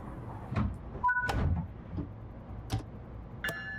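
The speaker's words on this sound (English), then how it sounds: "Lock the doors." Train doors closing in the Train Sim World game on a run toward Newark Penn: a series of mechanical door thumps, clicks and short warning tones at moderate volume, heard alone without talk.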